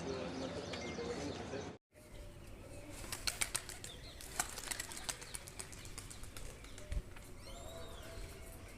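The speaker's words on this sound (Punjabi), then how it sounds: "ਉੱਡ ਗਏ ਚਾਰੇ ਕਬੂਤਰ ਵੀ" Four racing pigeons are released at a pigeon-flying contest and flap off with several bursts of wingbeats outdoors, while a voice speaks and wind noise runs underneath.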